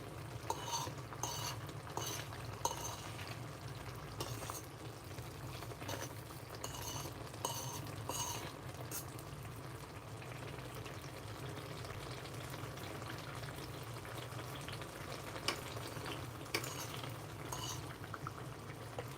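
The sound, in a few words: meat frying and being stirred in pan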